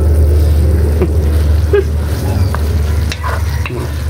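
Long chilies stirred into chicken liver adobo sizzling in a pan, a steady close frying hiss with scattered scraping and clinking from the stirring.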